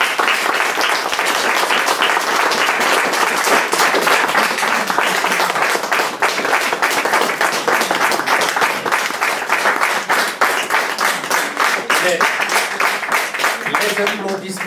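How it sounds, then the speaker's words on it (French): Sustained audience applause fills the hall after a French-language lecture on Ion Ghica, dense and steady clapping at close range for about fifteen seconds, with faint voices emerging near the end. "Les applaudissements sont bien mérités."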